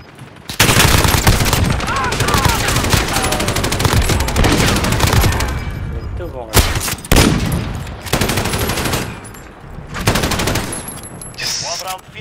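Rapid bursts of shotgun gunfire in a Call of Duty Search and Destroy match, loud and dense across most of the stretch with brief gaps, mixed with game noise and faint voices.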